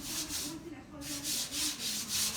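Wooden boat deck sanded by hand ahead of final paint coats, with slow, rhythmic rasping strokes repeating about every half second, close and fairly quiet, with no talking.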